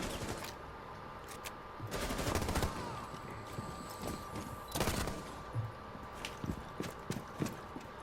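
Video game gunfire from a Jackal primary rifle fitted with a muzzle brake: bursts of shots crack out around two seconds and again near five seconds, with scattered single pops in between over a steady background hum.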